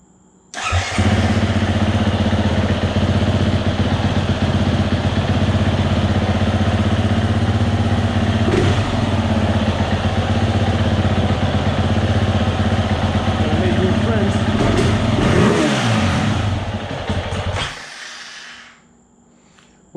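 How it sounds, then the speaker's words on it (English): A 2020 Husqvarna FE 350 motorcycle that bogs down under open throttle starts up, then runs with a loud, steady idle and some revving for about seventeen seconds before shutting off abruptly. "I don't want to make a lot of friends in my neighborhood revving the bike at this time"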